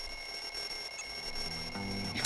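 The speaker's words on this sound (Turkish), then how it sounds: "yine bir alarmla kalktık" A video game alarm clock in Bully: Scholarship Edition rings with a steady electronic tone, fairly loud and continuous for a couple of seconds, with no talking.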